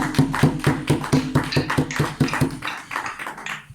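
A congregation in a church service applauds, with rhythmic, evenly spaced claps ringing out close and loud, then loosening into scattered clapping as it fades.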